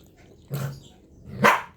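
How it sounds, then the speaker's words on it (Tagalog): A pet dog begs for bread, giving two short, close barks about a second apart with quiet gaps around them. "Tumataw lang aking alaga o si Lili"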